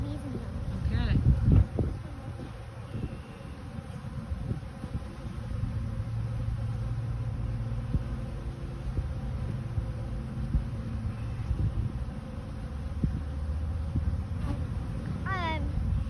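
Steady buzzing of many honeybees around a hive fills the air, a constant drone with occasional louder passes close by, and faint voices now and then.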